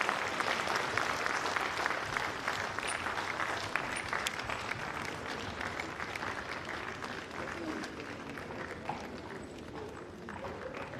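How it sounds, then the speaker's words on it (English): A conference audience applauds a vice president in a long, steady wash of clapping that holds at an even level from start to finish, with voices mixed faintly underneath. "Another round of applause for our able Vice President."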